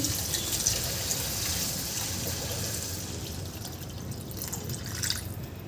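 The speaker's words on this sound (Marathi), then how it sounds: "याला एकदा असं परतल्यानंतर यामध्ये आपल्याला पाणी घालून घ्यायचं आहे" Water runs steadily into a pan of sautéed fenugreek greens with a continuous splashing trickle, fairly close and even throughout, with no talking.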